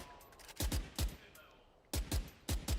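Gunfire in the video game Valorant during a professional esports match, several sharp, punchy shots fired in quick clusters with brief pauses between them, heard up close.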